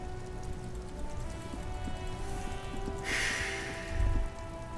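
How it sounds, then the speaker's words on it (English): Steady rain patters on a white and blue police motor carriage in Disco Elysium, a continuous close hiss with faint droplet ticks and a brief swell of brighter splashing partway through. "Droplets of rain fall on the white on blue police livery of the motor carriage."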